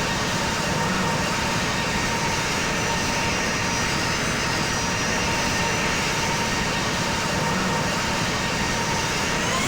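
Jet engines of a Hawaiian Airlines Boeing 717-200 on a landing approach in the Infinite Flight flight simulator game, heard as a loud, steady roar that fills the whole stretch, with no speech.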